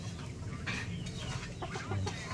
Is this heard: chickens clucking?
yes